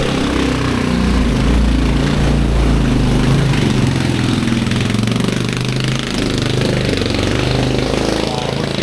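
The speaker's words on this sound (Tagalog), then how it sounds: "Lakas. Lakas ng makina." Loud, steady engine drone of the MT Tagapo passenger-cargo vessel near Talim Island, running hard at full power throughout with no pauses, its low rumble dominating the scene.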